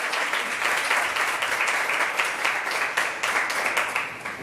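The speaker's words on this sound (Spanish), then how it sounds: "Vamos, denle un aplauso al Señor" A church congregation claps during a service, a dense, rhythmic wave of applause with pulsing beats, loud and continuous from start to finish.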